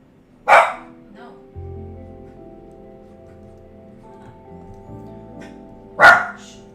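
Dog barking, two sharp loud barks several seconds apart, separated by quieter low whines and rumbling noises.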